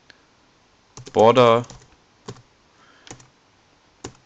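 Sparse, crisp keystrokes on a computer keyboard, a few isolated taps spaced about a second apart, close and quiet, with a brief spoken word over the first.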